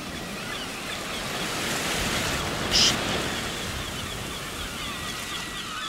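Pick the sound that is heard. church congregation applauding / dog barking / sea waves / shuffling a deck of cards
sea waves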